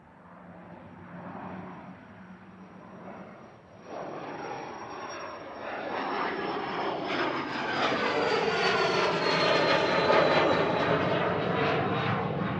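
An airliner takes off at Manchester Airport, its engine roar swelling from a moderate rumble to a loud, sustained thunder with a falling high whine, steady and close through the end.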